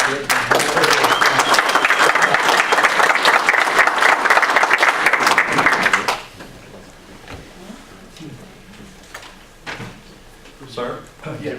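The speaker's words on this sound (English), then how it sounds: "Let's give him a second round of applause." Loud audience applause fills a hall for about six seconds of steady clapping, then cuts off sharply and leaves quiet room noise with a few soft shuffles and knocks.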